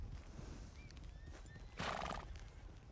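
A horse in the El Rancho RP game whinnies loudly with a shaky neigh near the end, while hooves clip-clop and faint chirps sound in the background.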